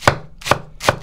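Three sharp knife strokes cut vegetables into strips on a cutting board, evenly spaced and crisp, each a quick thud-and-snap with brief quiet in between.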